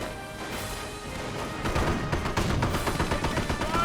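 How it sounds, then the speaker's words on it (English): Mortar half-track firing in a Company of Heroes battle, a run of thudding blasts and crashes that builds in loudness over a busy bed of battle noise. "Mortar half track firing away."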